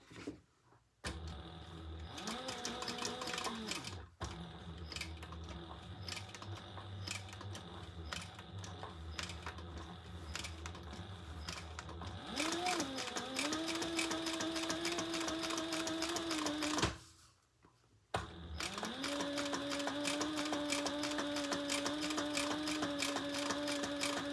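A sewing machine stitching a black and leopard-print crossbody bag, running steadily and loud in sustained bursts with brief pauses, its motor pitch rising and falling as the speed changes.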